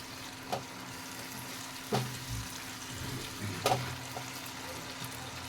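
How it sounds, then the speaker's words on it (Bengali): Tomatoes frying in a pan for soybean chaap are stirred, giving a low sizzle broken by a few sharp spoon scrapes and clinks against the pan at irregular intervals, close by with no talk. "এবার ভালো করে নাড়িয়ে নেব।"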